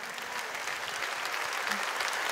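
Enthusiastic concert audience applause fills a short stretch at a Jazz Plaza 2019 show, a dense, even burst of clapping heard alone.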